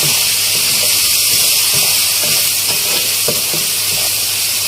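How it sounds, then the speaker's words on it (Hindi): Spice masala for besan gatte curry frying in oil, a steady close sizzle with faint scraping stirs tapping through it, no talk. "यहाँ पे देखिए, हमारा मसाला भुन रहा है और ये भुनना बिल्कुल स्टार्ट हो चुका है।"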